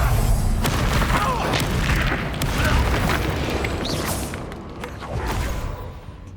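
A Bombarda explosion spell from Hogwarts Legacy goes off as a loud, close blast with deep rumble, followed by whooshing debris and lingering crashes that slowly fade, with a second smaller burst near the end.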